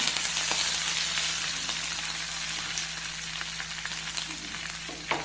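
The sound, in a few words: curry leaves and red chillies sizzling in hot oil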